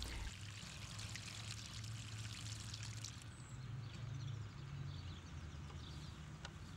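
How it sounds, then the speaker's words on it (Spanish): Water is poured slowly onto the soil around a tree, giving a steady, faint, continuous trickling and splashing with no talk over it. "Riegue su árbol lentamente con 15 galones de agua"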